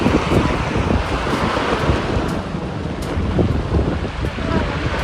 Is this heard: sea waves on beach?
yes